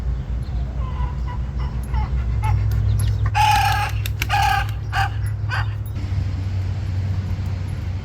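Chicken-like squawks and clucks rise in a brief burst midway, over a steady low engine hum from a Cub Cadet CC 550 mower that runs throughout.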